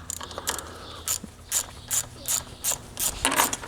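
Ratchet with an 8mm socket clicking rapidly as it backs out screws on a 2019 Ford Ranger, sounding in about nine short close bursts of dense pawl clicks with brief pauses between.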